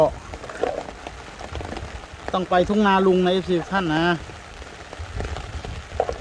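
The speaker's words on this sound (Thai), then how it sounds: "ตอนนี้ก็ฝนตกนะท่านผู้ชม นะครับโอ้โหตกหนักเลย" Heavy rain pouring during a storm with flooding in front of a house, a constant hiss beneath someone talking.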